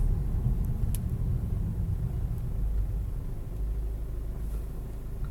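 A car engine idles steadily while braking, with the start-stop system failing to cut it off; a continuous low rumble holds at constant loudness with no pause or restart.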